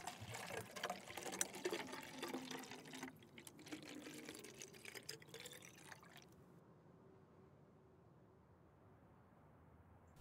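Oil pours and drips into a chopper motorcycle during maintenance in Motorcycle Mechanic Simulator, a steady liquid trickle that thins and then stops about two-thirds of the way through, leaving near silence.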